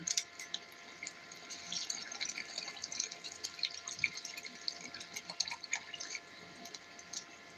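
Water pours and splashes into a pot with a thin, steady trickling and small drips, faint and nearby.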